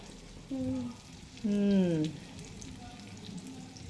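Pieces of fish fry in a hot pan at home after coriander is sprinkled over them, with a soft steady sizzle running underneath as a couple of voices chime in briefly.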